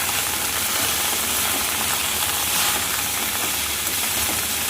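Okra (bhindi) sautés in a kadai with a loud, unbroken hissing sizzle that stays close and constant throughout, with no voices.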